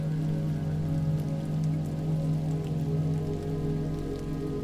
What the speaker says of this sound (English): The transformed fire energy is falling back to earth as life-giving rain.